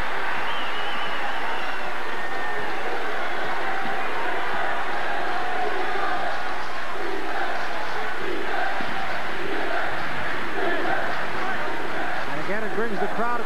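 Basketball crowd roaring at the Thunderdome during a 1991 college game between UNLV and UC Santa Barbara, a sustained dense wall of cheering and shouting that rises and swells throughout, with a commentator talking over it.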